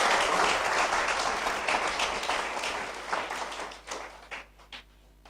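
A church congregation at an evangelistic service claps in a dense, steady burst that thins out and dies away into scattered claps near the end.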